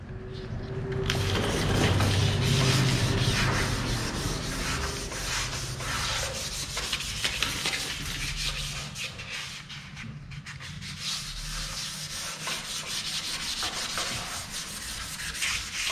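Dry sanding of a painted car body with 320 grit sandpaper, a loud continuous abrasive rasp close up, with steady back-and-forth rubbing and no talk.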